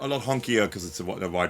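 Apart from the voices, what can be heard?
None of the usual background noises is heard.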